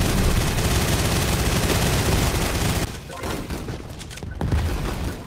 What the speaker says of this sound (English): Minigun mania. Yeah. It's just a hellfire of bullets.